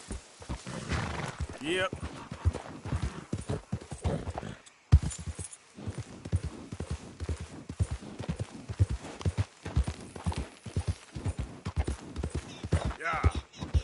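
Horse hooves clip-clopping in Red Dead Redemption 2, a steady rapid beat running throughout at close range, with occasional snorts and a voice talking over it.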